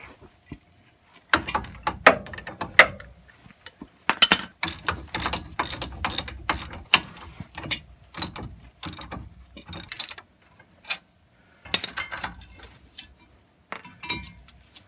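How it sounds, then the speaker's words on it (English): A ratchet wrench clicks in repeated quick bursts as two 18mm caliper bracket bolts come off a GMC Sierra wheel hub, with clanks of tools and metal nearby and pauses between the runs of clicking. "now we gotta remove the caliper bracket. There are two 18mm bolts that are holding this on."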